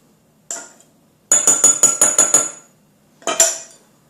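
A ceramic mug holding brownie batter rapped on a kitchen counter: a single knock, then a quick run of about seven sharp clinking taps, then a final pair of knocks. The taps are loud and close, with no voices.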